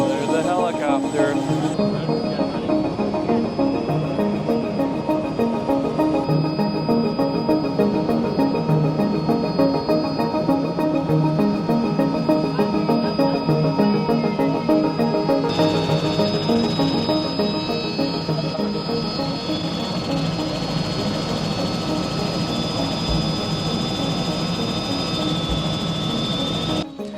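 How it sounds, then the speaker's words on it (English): Steady, loud helicopter rotor and engine drone with a whining turbine tone over Destin, Florida, continuous throughout, with voices talking faintly beneath the noise. "There's the helicopter."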